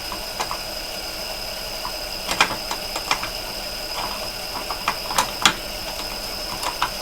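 A paper tape punch machine (LRP-300V) runs, giving sharp clicking and ratcheting taps at irregular intervals over a steady mechanical hum, close and clear.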